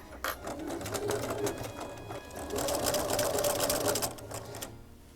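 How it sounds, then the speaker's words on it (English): A sewing machine's bobbin winder runs as a close, steady mechanical whir that rises slightly in the middle and then cuts off near the end, with faint background sounds. "Oh, I accidentally switched my bobbin winder on."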